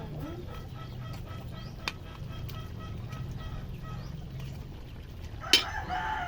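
Chickens clucking with a rooster crowing, faint and somewhat distant over a low background hum, with a sharp knock near the end.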